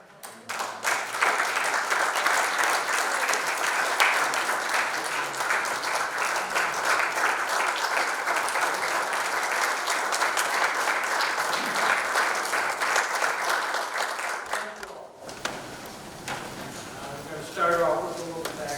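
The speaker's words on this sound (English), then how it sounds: "Please everybody arise and give a round of applause" Sustained audience applause at a city hall of fame induction ceremony, loud and steady for about fifteen seconds, then dying away into scattered claps and murmuring.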